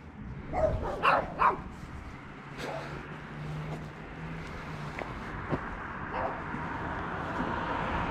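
A dog on the property of an old village house with a mansard and ivy-covered eaves in Freidorf barks a few times at moderate distance, the short bursts clustered early, then ambient street noise continues.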